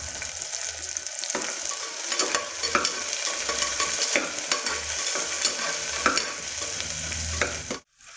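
Onions sizzle steadily in hot oil while a utensil scrapes and stirs the pan for mutton curry, a continuous crackling hiss that cuts off abruptly at the end.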